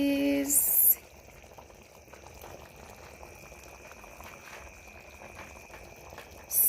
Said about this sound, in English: our eggplant stew is here cooking well